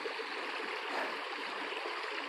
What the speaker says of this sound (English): Can you hear the running water?